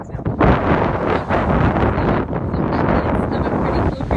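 Strong gusting wind buffets the microphone in heavy, continuous rumbling bursts on a beach at low tide.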